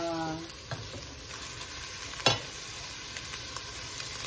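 Ingredients sautéing in a pan for Korean kimchi tofu soup, a steady sizzle under occasional stirring scrapes, with one sharper clatter midway, close and alone without talk.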